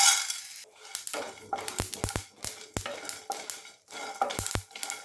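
A utensil stirs chana dal, coriander seeds, cumin and sesame dry-roasting in a pan, giving repeated scraping sweeps broken by sharp metallic taps against the pan, close and alone.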